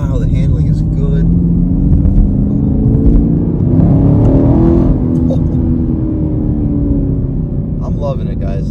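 A 2023 Chevrolet Camaro LT1 pulling hard in second gear on a multi-lane highway, its V8 engine note a loud, steady rising drone heard from inside the cabin, with brief voices in the background.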